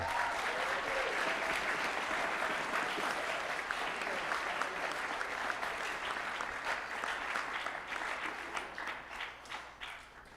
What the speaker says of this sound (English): how about another round of applause for our percussion ensemble?